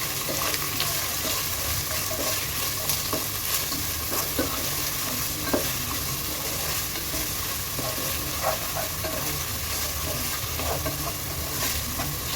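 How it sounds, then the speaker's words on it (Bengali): Green chillies and onion frying in a pan for beef tehari while being stirred, a steady close sizzle with occasional soft spatula scrapes and clicks. "দিয়ে এখন একটু নাড়াচাড়া করে নিচ্ছি।"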